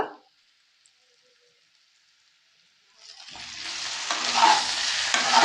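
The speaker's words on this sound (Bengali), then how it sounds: "এবার এটাকে একটু কষিয়ে নেব যাতে গুঁড়ো মশলার কাঁচা গন্ধ না থাকে" A spice mixture with chili paste and ginger paste, cooked with ground cumin for an aloo dum, bursts into loud sizzling and stirring after about three seconds of near silence.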